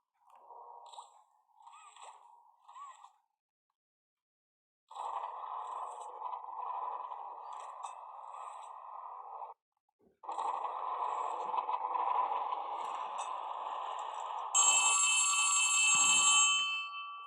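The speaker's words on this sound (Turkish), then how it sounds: "Telefon sesi bana çok yüksek geldi arkadaşlar." A telephone rings in the video game Poppy Playtime Chapter 4, its electronic warbling tone repeating in short bursts and then sustained stretches, fairly loud and unaccompanied, ending with a brighter, harsher jangling.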